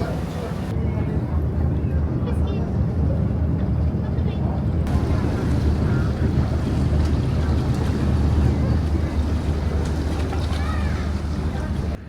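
Steady breeze buffets the microphone beside Lake Garda, a continuous low roar of wind noise lasting throughout, with voices faintly present underneath.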